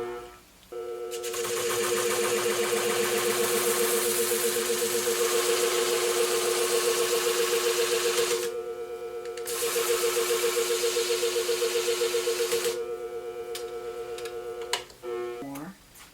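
A Scimech Flathone sharpening machine runs while honing Freebird groomer curved shears, giving a steady, close whirring hum that briefly cuts out midway and stops near the end with a small clink.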